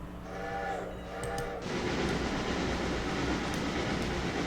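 A train rolls along in the railroad game Railroader: sustained tonal notes open, then a steady, dense mechanical rumble that fills the rest of the stretch without talk.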